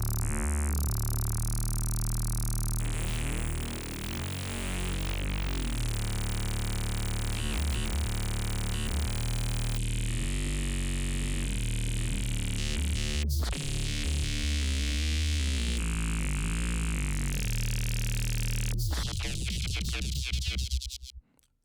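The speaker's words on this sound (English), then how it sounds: "It's just OTTs in a sine wave." Sine wave heavily processed with OTT multiband compression, a loud, dense synth tone whose harmonics shift and warble in stages, sustained alone before cutting off abruptly near the end.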